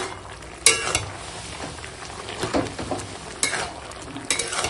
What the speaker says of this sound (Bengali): চলো একটু ঘেঁটে দিই। শাকটা দিয়ে দিয়েছি উপরে, এবার একটু ভালো করে মিশিয়ে দিই।